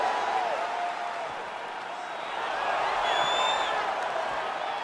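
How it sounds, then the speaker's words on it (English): Crowd noise from the EA Sports UFC 4 video game at the start of a fight, a diffuse, moderate swell of cheering and whoops with faint whistles, steady throughout and rising slightly toward the end. "crowd getting excited as this fight gets underway"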